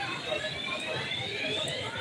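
A high, steady electronic alarm tone from an e-bike drones continuously, with voices talking faintly beneath it.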